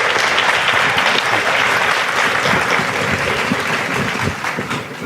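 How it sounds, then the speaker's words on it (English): A school audience at a parents' session at Chitrakoota School claps loudly and steadily to welcome the principal, a dense continuous round of applause that eases slightly near the end. "So with a huge round of applause, let's welcome our dear principal, Sadat sir, onto the stage."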